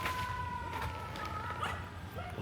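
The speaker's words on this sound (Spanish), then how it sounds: "5 perros, tío, no han parado de salir." Several stray dogs in Indonesia bark and yip at close range in an agitated burst, set against steady outdoor background noise.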